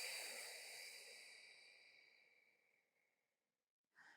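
A long, soft exhale during a beginner reformer Pilates class, breathy and fading slowly over several seconds, close and quiet, followed by a brief short breath at the end.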